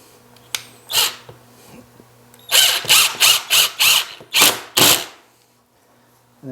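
A power drill drives a countersunk screw through laminate stair nosing, giving a quick series of short, loud, close whirring bursts in a rapid rhythm after a couple of isolated spins.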